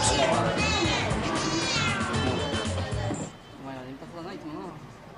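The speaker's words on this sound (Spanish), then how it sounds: "Claro que algunos gatos son más amistosos que otros" An unfriendly cat at a Tokyo cat café meows and caterwauls in drawn-out, wavering cries, loud and close, with a voice speaking over it throughout.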